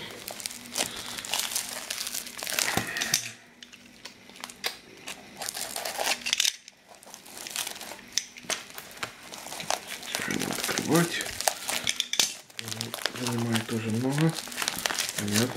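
A plastic package wrapped in tape is handled and crinkled in bursts of crackling and rustling up close, with short pauses between, while someone speaks.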